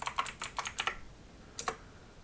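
A password is typed on a computer keyboard, a quick run of about six crisp close key clicks followed by a short pause and two final taps, quiet room, no talk.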